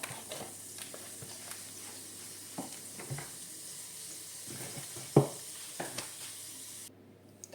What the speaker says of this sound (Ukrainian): я поставила масло вершкове на вогонь, зараз воно розплавиться, розтопиться